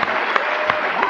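A stand-up comedy audience at a late-night TV taping applauds in a short, dense burst of clapping, loud and close, with a few sharper claps popping out.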